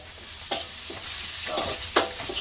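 Vegetables are stir-fried in a pan with a steady soft sizzle, broken by several sharp scraping strokes of a utensil against the pan at close range.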